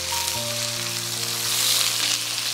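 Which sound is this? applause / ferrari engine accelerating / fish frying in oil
fish frying in oil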